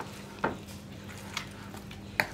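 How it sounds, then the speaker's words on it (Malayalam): Soya chunks being mixed with cornflour in a bowl, with three separate clinks of a spoon against the dish over a low, steady background hum. "ഇതും കൂടി ചേർത്ത് നന്നായിട്ടൊന്ന് മിക്സ് ചെയ്തെടുക്കുക."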